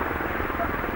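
Merlin three-engine military helicopter flying at the Farnborough Air Show, a steady close rotor and engine drone with a rhythmic thudding beat filling the whole second, loud and unbroken.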